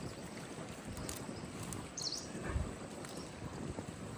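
Wind gusts over a Sundarbans river at night while fishing nets and hooks are being set, giving a soft, continuous low rumble and rustle that is faint and distant, with no voices.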